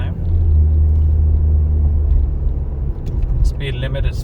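A car pulls away from a complete stop at a red light on a driving test route in Oshawa, its engine a low, steady rumble that lifts slightly as it moves off, with a brief higher whine near the end.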